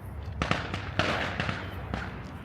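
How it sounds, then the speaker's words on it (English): Fireworks popping and crackling in a quick series of sharp bursts at a moderate distance, with no voices, heard in Toronto near Woodbine Park and Danforth. "And there's the fireworks."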